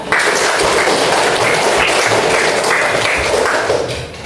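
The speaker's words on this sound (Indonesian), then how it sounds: "Oke ya, tepuk tangan." A group claps hands after a lesson, producing a dense, continuous wash of applause at steady loudness that tapers slightly at the end, with no clear talk.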